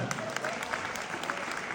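A comedy show audience claps briefly, a fairly quiet, even patter of many hands in a room.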